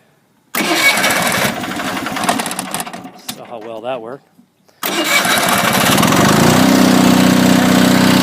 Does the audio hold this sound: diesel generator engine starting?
yes